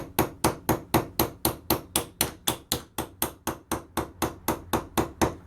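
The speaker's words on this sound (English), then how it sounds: "and just keep gently tapping away at it like that." A cross pin hammer taps steadily on a copper reducer, a fast even run of about twenty sharp metallic strikes, close and loud with no talking.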